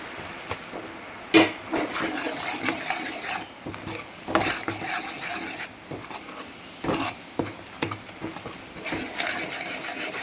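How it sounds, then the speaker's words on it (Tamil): Flour is stirred into a sticky barfi mixture in a pan, giving irregular scraping and rubbing strokes with a few sharper knocks of the spoon against the pan. "நம்ம கொஞ்சம் கொஞ்சமாக மாவை சேர்த்து கிண்டுவோம்"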